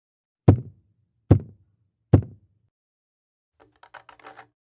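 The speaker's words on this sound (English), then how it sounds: "3 knocks." Three loud, evenly spaced knocks on wood from overhead in a quiet room at night, each a sharp thud with a short boom, followed by a faint scattering of lighter tapping and clicking.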